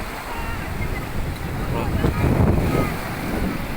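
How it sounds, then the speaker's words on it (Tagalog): Strong sea waves break on a Philippine shore in a steady wash of surf under buffeting wind noise on the microphone, with a louder crashing surge near the middle. "Malakas ang alon."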